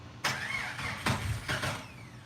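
A rebuilt 4.0 engine cranks on its first start attempt, with about three rough bursts of starter churning and engine noise close by.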